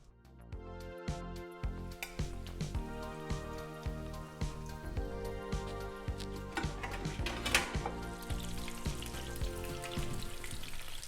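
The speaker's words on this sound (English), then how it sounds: "Heat the oil on a medium heat and add the crumb prawns" Coconut-crumbed prawns frying in hot oil on medium heat, a steady close crackle and sizzle with dense popping ticks throughout.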